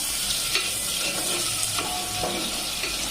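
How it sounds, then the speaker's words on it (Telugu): Onions sautéing in a pan for a vegetable poori curry, a continuous close sizzle with a few soft stirring scrapes and light clatters throughout, no talking. "ఉల్లిపాయలు బాగా మగ్గుతున్నాయండి"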